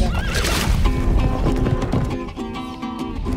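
A horse neighs loudly and close by during a cattle drive in Colombia's Amazon-Orinoco country. The rising, harmonic whinny is followed by further wavering calls over a rough outdoor background.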